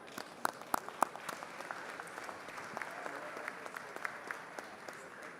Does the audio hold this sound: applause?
yes